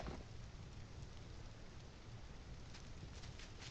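Rain falling in the video game The Legend of Khiimori, a steady, close hiss of drops on surfaces with faint low rumbling beneath, continuous and without speech.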